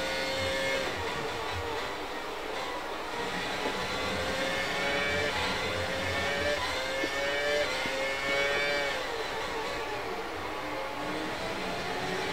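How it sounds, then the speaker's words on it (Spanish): A Renault R25 Formula 1 car accelerating in the F1 2019 racing game at the Spanish Grand Prix, a high, wailing engine climbing through repeated upshifts, loud and continuous with other cars audible nearby. "Me sorprende mucho la aceleración de este coche. Y el cómo suena"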